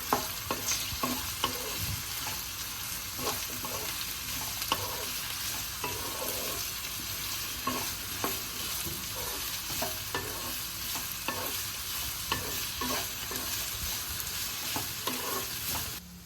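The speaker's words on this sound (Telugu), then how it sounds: "ఇలా సన్నగా చీలికలుగా కట్ చేసుకున్న ఉల్లిపాయ ముక్కల్ని యాడ్ చేసేసుకుందాం" Sliced onions and mixed vegetables stir-frying in a pan for semiya vegetable fried rice, a steady sizzle broken by repeated scraping stirs of the spatula throughout, close up, with no talking.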